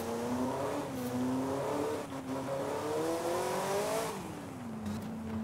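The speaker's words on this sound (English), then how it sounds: "Definitely sounds like a modern engine." An unusual car in Forza Horizon 5 with a modern-sounding, high-revving engine revs up and climbs in pitch, dips, then winds up again, steady and fairly quiet with no talk.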